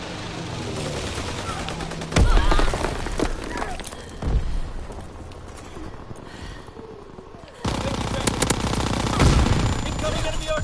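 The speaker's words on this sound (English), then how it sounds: "Incoming enemy artillery." Incoming enemy artillery in a PS4 war game: bursts of rapid gunfire and heavy booms, loud and close, with quieter stretches of crackling fire in between.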